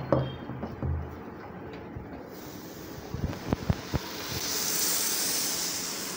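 Appam batter hitting a hot non-stick appam pan gives a steady hiss that swells toward the end, alone with a few faint clinks.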